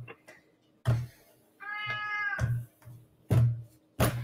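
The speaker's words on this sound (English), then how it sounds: "Is that a cat?" A cat gives one drawn-out, clear meow at close range in a home kitchen during pasta making, with sharp knocks and thumps from the cooking work before and after it.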